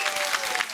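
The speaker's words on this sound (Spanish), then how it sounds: "Un aplauso, por favor, a los dos." Studio audience applauding two impersonators on a talk show, a brief burst of dense clapping throughout.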